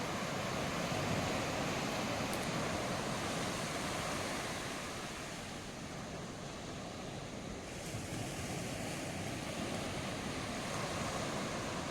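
Steady rushing surf from waves on a Konkan coast beach, a continuous broad wash of water with gentle swells, heard alone without voices.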